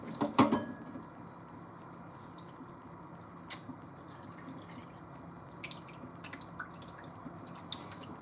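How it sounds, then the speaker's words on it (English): Water runs through a sausage casing during sausage making, with a wet squish at the start and then scattered soft drips over a low, steady trickle. "you get your water and you just let it slide down like that through the casing"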